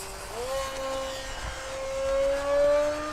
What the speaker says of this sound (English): Speedy plane, man.